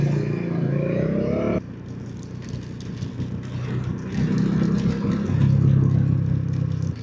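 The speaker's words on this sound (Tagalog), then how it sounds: "Maraming sasakyan." Busy road traffic at a long intersection, several vehicles' engines rumbling and passing nearby with a clattery, shifting drone, heard from a rider on the road.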